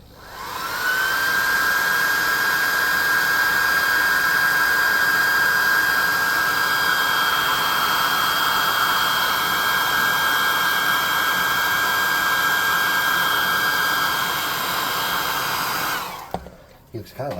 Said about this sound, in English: dry those parts with the hot air gun